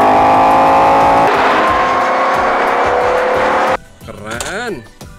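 A toy luxury car plays a loud racing sound of engine roar with a squealing, rising tire whine that runs for several seconds and then stops abruptly, followed by brief talking.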